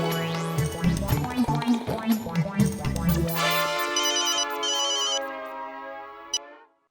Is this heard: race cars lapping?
no